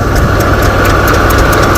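A tractor engine idles loudly and close, with a steady low throb and a regular rhythmic knocking from the driven machinery.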